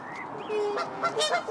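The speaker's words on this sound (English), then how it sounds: "The geese are serenading." Several geese honking in short bursts close by, loud nasal calls overlapping against an outdoor background.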